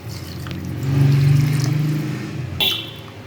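Water poured from a glass into rice in a pot while cooking bisibelebath, a close, steady liquid rush that swells and fades over a couple of seconds, followed by a brief knock.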